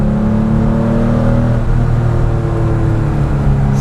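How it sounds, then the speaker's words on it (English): A 1992 Porsche 964 Carrera RS engine revs high and hard, a loud, steady, close mechanical drone with strong harmonic tones sustained throughout, no talking. "winding the car up, it just comes alive in the upper rev ranges"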